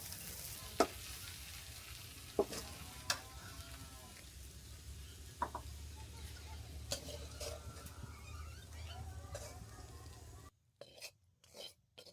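Bathua greens with shrimp cooking in a pan, a soft continuous sizzle punctuated by several sharp spatula scrapes and taps against the metal, close but fairly quiet, ending in a few brief scraping strokes after a sudden drop.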